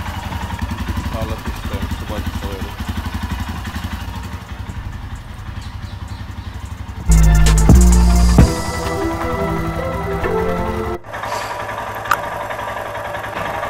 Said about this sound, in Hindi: हमारी बाइक वहाँ पे कोल्ड स्टार्ट हो रही है।